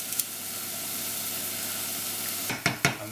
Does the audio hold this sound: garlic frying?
yes